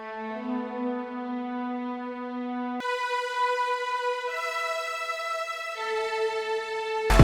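Sustained synthesized string tones holding long chords that change a few times, smooth and bright with no percussion or voices.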